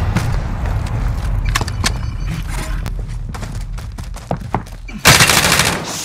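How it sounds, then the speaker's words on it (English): Rapid gunfire bursts from the Call of Duty: Modern Warfare video game, dense and continuous, with sharp individual shots and a louder crackling volley near the end. "Taking fire!"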